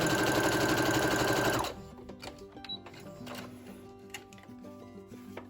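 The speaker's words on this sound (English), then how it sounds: "line them up the best that I can, and put it under the needle and sew away" A sewing machine stitches fabric strips for a scrappy dog dress, a loud rapid mechanical whir for about a second and a half before stopping, followed by quieter clicks and handling noises.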